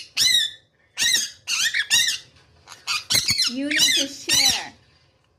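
A pet conure parrot squawks in loud, harsh, shrill bursts, about eight of them in uneven spurts, with a person's brief voice mixed among the calls.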